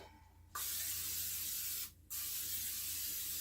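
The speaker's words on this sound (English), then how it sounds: "We're going to spray our pans." Cooking spray hisses onto cake pans for a vegan brown sugar beer cake in two close bursts, one long spray, then a short pause, then another sustained spray.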